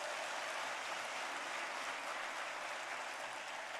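A church congregation clapping during a Sunday worship service, a dense, even wash of applause that holds steady from start to finish without voices.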